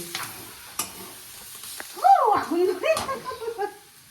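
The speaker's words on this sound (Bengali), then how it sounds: "এই যে আমার শাক ভাজাভাজি চলছে" Leafy greens (saag) fry in a pan at home, giving a soft, steady sizzle with a few stirring knocks, while a voice sounds over the sizzle in the second half.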